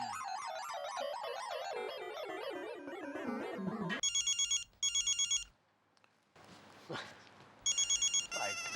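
Following a patch of melodic background music, a telephone rings in repeated double trills, then stops briefly and starts again, loud and clear against quiet gaps.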